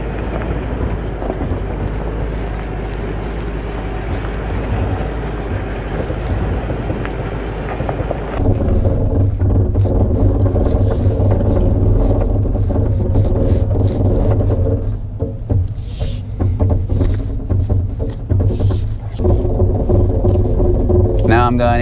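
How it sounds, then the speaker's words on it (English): A 2021 Toyota Land Cruiser moves at slow off-road speed under Crawl Control, giving a loud low rumble with irregular clunks and knocks, and wind noise buffeting the microphone throughout. "Toyota's Crawl system makes really weird noises"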